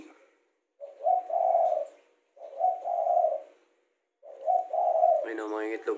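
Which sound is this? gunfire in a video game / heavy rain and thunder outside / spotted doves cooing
spotted doves cooing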